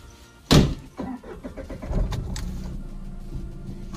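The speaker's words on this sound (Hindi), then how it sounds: "थोड़ा सा वार्म अप होने देते हैं गाड़ी को" A car engine cranks and catches with a sharp burst early on, then settles into a steady idle as it warms up on a cold winter morning.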